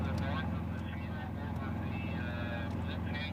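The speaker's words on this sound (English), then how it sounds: "We're going to watch these 2 aircraft go and watch them listen." Two racing aircraft turning during a national championship air race in Roswell, New Mexico, heard as a steady, continuous engine drone with low harmonic hum throughout, partly under crowd or commentary noise.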